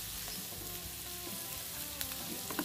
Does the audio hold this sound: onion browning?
yes